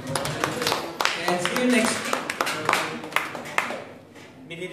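Congregation clapping in a church after a sermon, a loose scatter of claps and taps mixed with murmuring voices and talk, moderately close and uneven, thinning toward the end.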